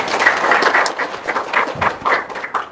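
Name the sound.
audience applause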